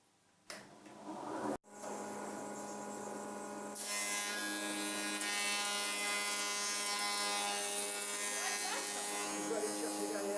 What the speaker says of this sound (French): on va démarrer l'aspi